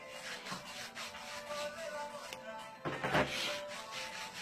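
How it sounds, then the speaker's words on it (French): Baking soda deodorant being rubbed onto an armpit, making soft, quiet scratchy rubbing strokes in a loose repeating rhythm with a slightly louder scrape near the end, close by, with a faint voice in the background. "Vous frottez sur vos aisselles."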